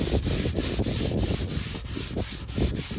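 A car roof on an El Camino build being sanded with 120 grit sandpaper, a loud, close, continuous scratchy rasp with rhythmic back-and-forth strokes and no talking.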